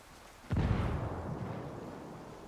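A grenade explodes in a video game's gunfight, one sudden loud blast with a deep boom that rolls off into a long, fading rumble.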